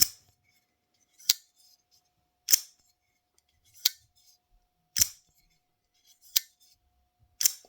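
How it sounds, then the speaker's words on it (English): Six sharp metallic snaps at roughly even intervals as a Kizer folding knife blade is flicked open against a firm detent, crisp and close with silence between. "you have to put a little bit of oomph into it, and you get a very distinct."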